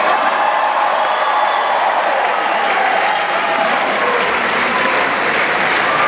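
A live concert crowd applauds and cheers after a band's set at a tribute show, a loud, continuous wash of clapping and shouts filling the room.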